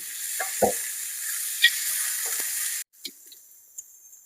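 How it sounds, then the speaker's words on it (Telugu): Ginger garlic paste fries in a hot pan for a chicken noodle dish, giving a steady, close sizzling hiss with a few soft clinks. It then cuts to a much quieter sizzle with occasional light taps. "అందులోనే స్పూన్ అల్లం వెల్లుల్లి పేస్ట్ వేసుకొని పచ్చివాసన పోయేంత వరకు ఫ్రై చేసుకోవాలి"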